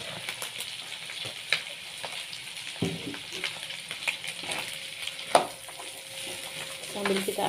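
Long beans and sweet corn sizzle in a frying pan while a utensil stirs them, giving a steady crackling hiss with scattered scrapes and clinks, close up and without talk.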